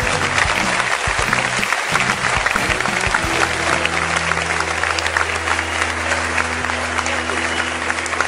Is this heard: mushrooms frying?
no